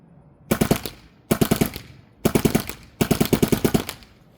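An MXR paintball marker fires in semi-automatic mode at close range. Four loud strings of rapid, sharp shots are separated by short pauses.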